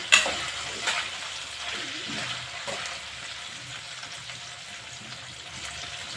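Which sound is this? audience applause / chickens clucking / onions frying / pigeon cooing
onions frying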